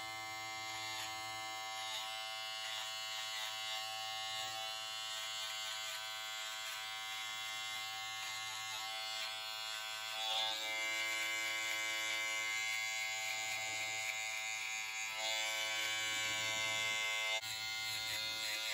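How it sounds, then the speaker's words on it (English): Andis electric trimmer running steadily while trimming a beard, a close, continuous high buzzing hum with slight changes as it moves through the hair. "Same trimmer."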